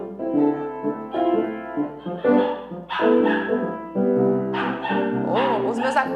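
Small pet dogs barking and yipping in short bursts indoors during a music lesson, mixed in with someone talking and instrument playing.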